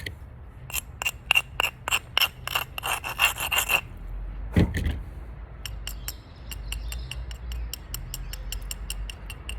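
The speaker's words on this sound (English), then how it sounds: "Find each individual platform, isolate it, grind it." Short rasping strokes of a stone abrading the platform edges of a Solutrean flint biface, a quick rhythmic series of scrapes, then a louder knock and a lighter, sparser run of scratchy rubs, close and alone.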